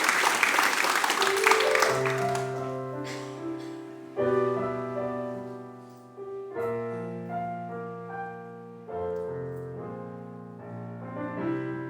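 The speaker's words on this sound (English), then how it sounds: "with a round of applause" An audience at a band show applauds a singer. The clapping is dense at first and fades within two seconds as the band's sustained, melodic music takes over.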